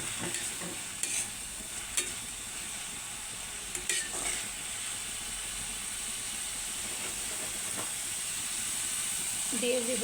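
Eggplant frying in a pan seasoned with turmeric, chili and cumin, giving a steady hiss and sizzle throughout, with a few sharp stirring clinks and scrapes scattered over it.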